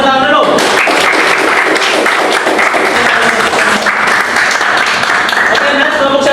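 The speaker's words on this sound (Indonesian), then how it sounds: "Tepuk tangan dulu" Classroom of students applauding after a group presentation, producing a loud, dense burst of many hands clapping that fills the room and continues steadily for several seconds, with some voices mixed in.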